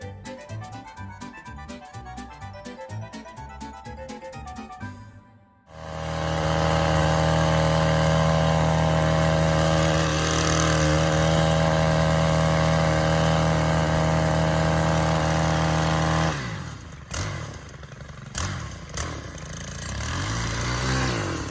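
A Hoss wheel hoe tiller engine runs in a garden, starting after a few seconds of rattling and then holding a loud, steady droning roar for about ten seconds before dropping to a rougher, uneven chug.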